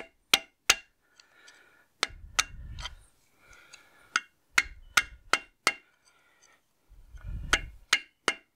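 Sharp, ringing hammer blows strike the rusty final drive of a David Brown 990 tractor, landing in irregular clusters of two or three close hits with brief quiet gaps and some low rattling between.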